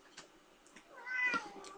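A housecat cries and meows insistently, wanting to be let out of a room; several short, fairly close meows come in quick succession, with the last one louder and more drawn out.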